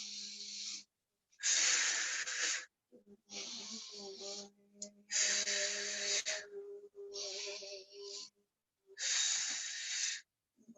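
Deep breaths during an exercise routine, long airy inhales and exhales in repeated bursts of about one to two seconds, close and loud, with short silent pauses between them.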